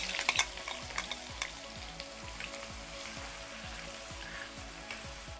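Onions fry in hot oil with a continuous crackling sizzle and a few sharper pops near the start. A low repeating hum runs faintly underneath.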